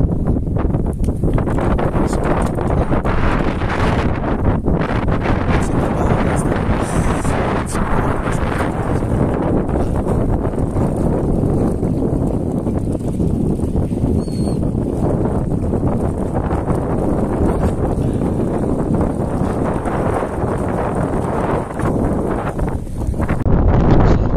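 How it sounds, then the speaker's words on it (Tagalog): Strong wind roars across the microphone at a seaside fishing spot, a dense, continuous buffeting blast lasting the whole stretch, loud and unbroken, with no voices. "Mahangin talaga ito."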